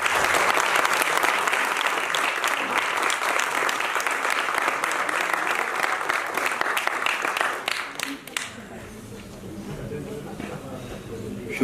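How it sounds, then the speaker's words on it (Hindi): Audience at a theatre festival award ceremony applauds loudly and continuously for about eight seconds, then the clapping drops away to quieter room sound. "जाने मन ताली तो बजा दो"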